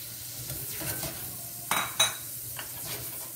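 Shrimp stirred in a pan of hot extra virgin olive oil, a steady low sizzle under several scraping clinks of utensil against pan, two sharper knocks near the middle, close and without speech.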